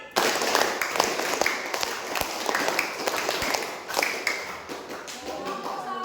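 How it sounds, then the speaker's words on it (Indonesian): Students in a classroom clap a rhythmic pattern twice over, a dense run of overlapping claps and taps amid shuffling and voices, loud and close throughout. "Tepuk 5 2 kali."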